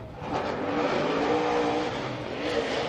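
Vaughn Gittin Jr.'s Roush-powered drift car throws into a corner during Formula DRIFT qualifying in Montreal, a steady distant engine roar with tire noise holding throughout.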